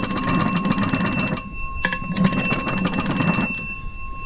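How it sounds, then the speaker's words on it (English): An old vintage telephone's bell rings in loud, rapid metallic trills, two long bursts separated by a short pause, close and harsh with a ringing shimmer. "the bell still works."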